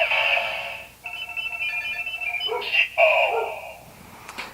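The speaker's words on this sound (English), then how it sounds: "Now you can turn the dial like so." A Kamen Rider Zi-O toy belt turns its dial and answers with loud electronic tones and short chiming jingles, shifting melodies over a few seconds, close and clear with no voices.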